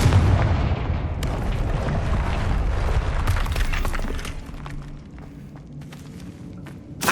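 A Confringo blasting spell from Hogwarts Legacy detonates in a loud, dense burst of booming explosive noise that rolls on for several seconds, with scattered crackling impacts, then eases into a lower rumble before one last short thump.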